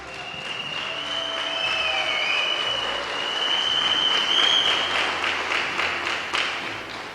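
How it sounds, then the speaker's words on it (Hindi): A large audience at a motivational talk breaks into loud, sustained clapping that swells and holds for several seconds, with faint whistles or cheers riding on top. "एक बार जोरदार ताली हो जाए इन लोगों के लिए"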